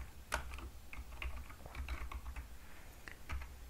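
Keys on a computer keyboard are tapped in short, uneven runs while an email address is typed into a Microsoft Word document; the taps are soft and close, with no voices.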